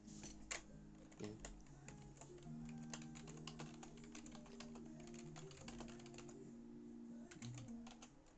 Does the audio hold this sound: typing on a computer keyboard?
yes